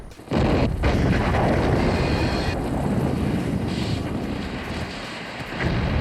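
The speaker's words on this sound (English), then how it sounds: "Then you've got lots of lovely explosions again." Loud, continuous rumbling blasts from a James Bond film's oil rig sequence roll on with little pause, a heavy booming wash of explosions filling the whole stretch.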